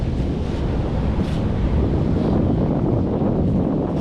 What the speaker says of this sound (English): Water's creeping up really close behind me. Here it comes.